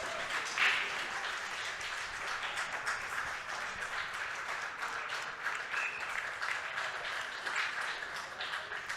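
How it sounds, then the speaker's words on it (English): Spectators at the 2022 Predator Canada Women's Open pool tournament applaud Allison Fisher's match win, a steady, fairly distant wash of clapping that carries on for several seconds. "Sounds like Allison Fisher just won the match."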